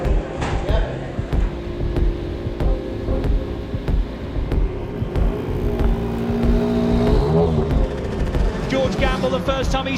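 BTCC touring cars launch off the line at a race start, engines revving and whining close by in a dense layered roar, with a commentator's voice running over the top.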